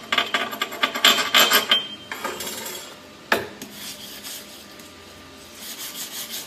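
Slag being chipped and brushed off a 7014 stick weld bead, close scraping and rasping strokes in quick bursts, then a sharp single knock and quieter rubbing afterward.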